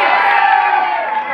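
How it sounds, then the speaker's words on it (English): An audience at a film song launch event cheers and whoops loudly together, a bright, sustained roar of crowd noise filling the hall without pause. "Let's clap to that journey."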